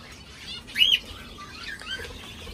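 Birds at a bird reserve give a few faint chirps and a brief burst of wing flapping, soft and fairly distant against a quiet background.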